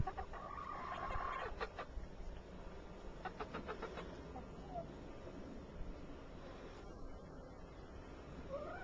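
Bantam chickens cluck and chatter inside a backyard coop during a snowstorm in New Jersey, with a few sharper squawks scattered through a steady low murmur of hens.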